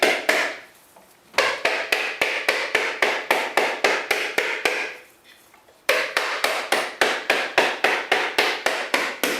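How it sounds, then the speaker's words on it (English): A ball peen hammer beats a coconut in quick, evenly spaced sharp knocks, loud and close, in two bursts of rapid strikes separated by a short pause. "And a ball peen hammer is a pretty good hammer for this."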